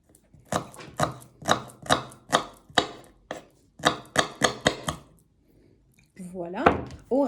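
Knife chopping shallots on a board: a quick run of about a dozen crisp, close chops in two bursts, with someone speaking briefly at the end.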